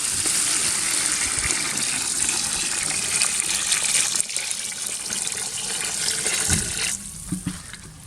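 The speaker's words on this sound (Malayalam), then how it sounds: "ഇതിലേക്ക് വെള്ളം ഒഴിച്ചു കൊടുക്കാം." Water gushes steadily into a cooking pot holding frying mandi masala, with a hissing splash throughout that eases off toward the end.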